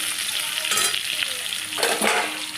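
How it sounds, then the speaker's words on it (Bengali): Pointed gourd frying in hot oil, a constant bright sizzle that swells in bursts as the pieces are stirred around. "পটলটা এইভাবে কেটে নিয়ে লাল লাল করে একটু ভেজে নেবো"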